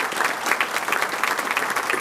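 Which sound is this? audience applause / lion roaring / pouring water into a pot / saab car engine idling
audience applause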